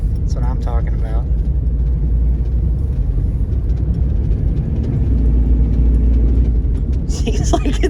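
A 1987 Chevy Silverado engine runs after sitting for six years, a loud, steady low rumble that fills the whole stretch without a break, with voices over it near the end.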